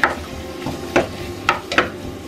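Sliced onions are stir-fried in a pan for a creamy stew, with a spatula scraping in four or five distinct strokes over a soft, faint sizzle.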